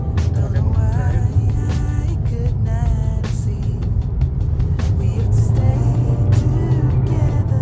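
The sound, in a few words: Honda HR-V e:CVT 2022 car driving in drive mode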